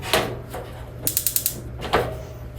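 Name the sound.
stove burner igniter knob clicking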